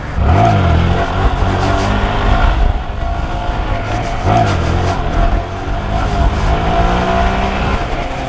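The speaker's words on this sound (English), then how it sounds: "I'm trying to tap that brake and see what happens" A Honda Grom motorcycle engine revs hard and continuously during a wheelie attempt, loud and close with rising and falling pitch and brief surges, no talking.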